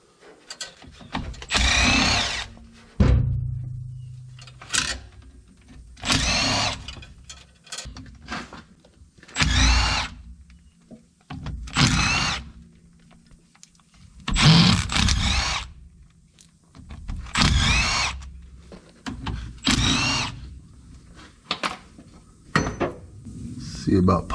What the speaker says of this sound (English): Let loose on it with the wire wheel.